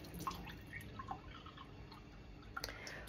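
Water runs from a household tap in a quiet room, a faint steady trickle broken by a few soft drips and splashes.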